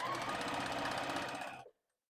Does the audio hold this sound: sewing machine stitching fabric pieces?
yes